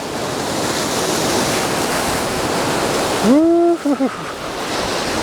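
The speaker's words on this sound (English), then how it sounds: "Some big waves coming in now." Big ocean waves crash on the shore in a loud, continuous roar of surf with wind buffeting the microphone, and a man's excited whooping cry rises briefly over the noise near the end.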